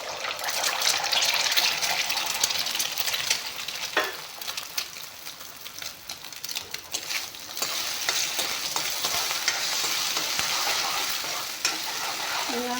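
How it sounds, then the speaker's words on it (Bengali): Eggs fry in hot refined oil, a loud, dense crackling sizzle that runs steadily from start to finish with a few sharp pops and scraping stirs, and no one speaks. "প্ৰথমতে কণীখিনি ভাজি ল'ম"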